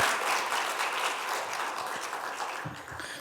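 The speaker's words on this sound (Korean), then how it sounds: "여러분 한번 감사의 박수 한번 보내주시면 어떨까요?" Steady, dense applause from a church lecture audience thanking local pastors in Mokpo, filling the room evenly for a few seconds with a few murmured voices rising near the end.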